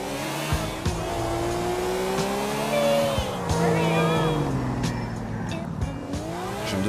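A car in GTA IV accelerating at full power, its engine rising in pitch through gear changes with tire squeals, loud and continuous over several seconds, with a voice talking faintly underneath.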